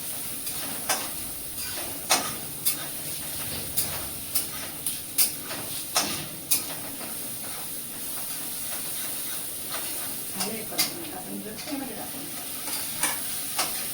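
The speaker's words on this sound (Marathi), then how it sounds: "मग आता आपण टॅमॅटो टाकूया त्याच्यात." Tomatoes are tipped into a pan of frying okra curry and stirred, giving a steady close sizzle and hiss under regular scraping and clacking strokes of a spoon against the pan.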